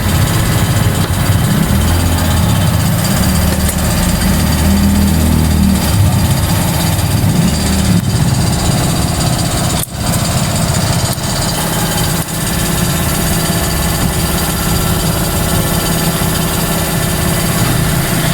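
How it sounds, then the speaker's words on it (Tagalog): A loud mechanical motor drones continuously with a steady vibrating hum, like an air compressor running close by, with no speech. "ingay yung makina natin dito sa gilid compressor pala yun compressor"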